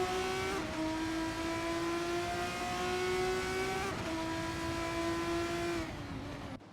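Formula 3 race cars lapping COTA in a racing video game, engines screaming at high pitch and climbing through gear changes, with a brief drop and shift midway, loud and close with no talk.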